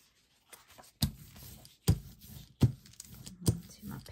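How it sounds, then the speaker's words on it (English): A paint brayer rolls paint off onto paper during gel-plate printing, making soft, scratchy rolling strokes in a few rhythmic passes, each starting with a sharper contact, quiet and close. "And I'm going to roll off my brayer."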